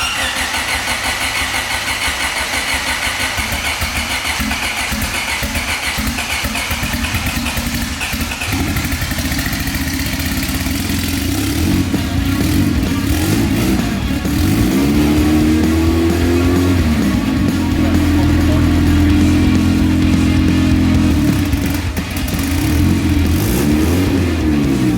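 A turbocharged Honda Civic, left sitting outside for a year and fitted with a new turbo, cranks over and starts, then settles into a loud rough idle with rising revs and engine whine throughout.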